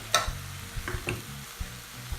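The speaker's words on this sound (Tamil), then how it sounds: "இந்த ஸ்டேஜில் நம்ம தக்காளியை சேர்க்குறோம். இது கூடவே உப்பையும் சேர்த்துக்கலாம்." Tomatoes and salt tipped into half-softened onions in a hot pan for cauliflower peas masala, with a couple of sharp clinks and a scrape of stirring over a quiet, low sizzle.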